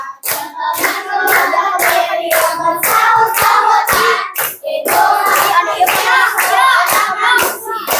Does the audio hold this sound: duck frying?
no